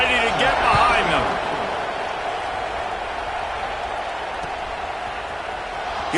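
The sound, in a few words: football stadium crowd cheering at kickoff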